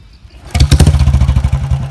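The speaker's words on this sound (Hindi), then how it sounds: "सो कर लेते हैं बाइक को स्टार्ट।" A Royal Enfield Bullet motorcycle cranks and fires into life after a brief quiet moment, then settles into its loud, close, evenly thumping single-cylinder idle.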